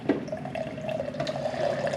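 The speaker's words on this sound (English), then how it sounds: "I'm going to run a couple cups of water through here." Water runs through an Avalon bottom-loading water cooler during a rinse with plain water, a steady trickling and filling sound with a faint tonal whine, close and alone for two seconds.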